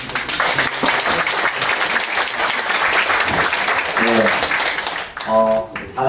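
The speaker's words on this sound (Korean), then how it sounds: "다시 한번 박수로 감사를 표현했습니다" An audience at a theology colloquium on Romans gives a loud, sustained round of applause that fades near the end as a voice begins speaking over the last claps.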